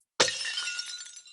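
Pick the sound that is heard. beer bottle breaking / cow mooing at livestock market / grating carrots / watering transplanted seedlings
beer bottle breaking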